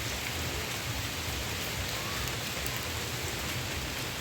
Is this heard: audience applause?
no